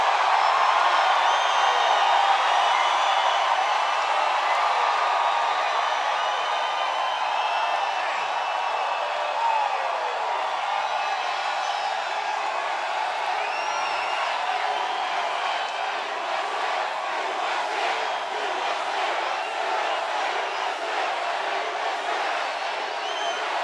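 A large crowd at a Missouri campaign rally for President Trump roars and cheers continuously, a dense, steady wall of voices with whoops and shouts that stays loud from start to finish.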